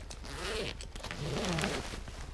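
The zipper on an Oakley O Pack 4.0 backpack is drawn in two quiet, close rasping pulls, the first shorter and the second longer, with no talking.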